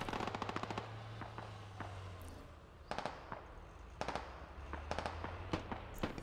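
Suppressing gunfire in the military shooter Squad: rapid bursts of automatic fire at the start, then scattered single shots and repeated short volleys, some distant and some closer, over a low steady engine drone.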